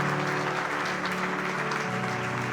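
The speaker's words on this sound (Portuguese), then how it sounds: "Dê um aplauso para Jesus" A church congregation applauds at a service, a loud, dense, sustained clapping from many hands filling the room, with a bit of voice and musical tone underneath.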